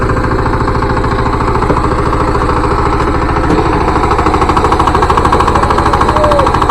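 A tractor engine runs in a paddy field, a loud, close, continuous rapid chugging drone that holds steady without a break.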